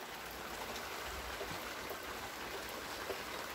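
Heavy rain pours down in a garden as a dense, steady wash of water, close and continuous with no talking.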